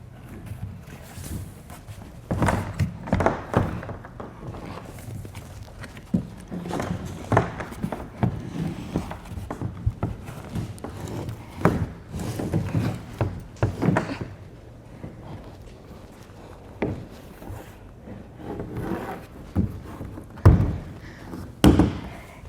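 A kayak is pushed from a stool up onto a Malone kayak carrier fitted with a Telos XL load assist, giving irregular close thumps, knocks and scrapes of hull against rack.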